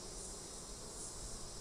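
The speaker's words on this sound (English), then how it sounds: "I can see a whole lot of worker bees." Worker honeybees in an opened hive make a dense, steady buzzing hum. It fills the whole moment evenly with no pauses, quiet and close, and no voices are heard.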